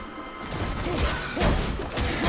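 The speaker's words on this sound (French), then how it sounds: "Donc on le frappe avec le bouclier bien sûr." In God of War, a heavy shield slams into an enemy with a loud crashing impact followed by further thuds and whooshing swings, dense and close.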